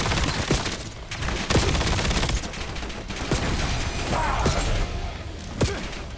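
Gunfire in the video game Call of Duty Black Ops 7: sharp individual shots crack out about every second over a steady, loud background of battle noise.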